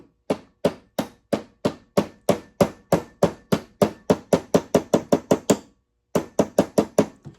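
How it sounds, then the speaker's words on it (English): Hammer tapping a mainspring barrel bushing held in a vise, a long run of sharp metallic taps at a quickening steady rhythm, close and loud, with a brief pause before a final burst. "I'm going to try to use my hammer again, and I'm going to try to use it in this vise."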